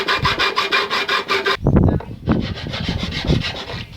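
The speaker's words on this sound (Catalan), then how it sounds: "amb la llima de metall ho polirem" A metal file rasps over the sawn-off nail ends on a handmade wooden stool in about nine quick, even strokes, followed by a few loose knocks and scrapes of wood and tools.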